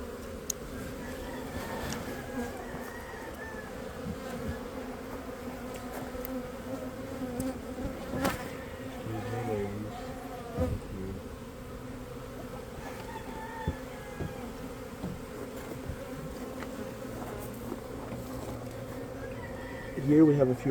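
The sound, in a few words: buzzing bees during a hive rescue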